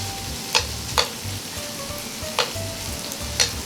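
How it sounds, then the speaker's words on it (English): Butter melting into a sizzling pan for bucatini carbonara, a continuous soft frying hiss with four crisp utensil taps against the pan spread across a few seconds. "I'm going to add some butter."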